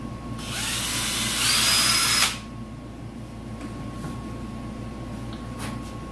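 A power drill bores holes into a Bauer 2000 psi electric pressure washer hose reel from Harbor Freight, a single steady whine of about two seconds that rises in pitch before stopping, then only quiet room tone.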